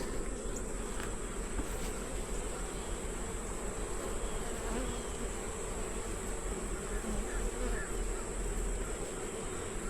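Honey bees buzz steadily and densely at close range throughout a hive inspection, a continuous insect drone with no talk over it.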